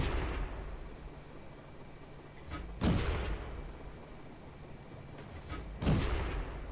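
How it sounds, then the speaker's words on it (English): Two blind tank gun shots boom out in a video game, each a loud sharp blast with a rumbling tail, about three seconds apart over a low steady engine drone. "I go for a few more blind shots"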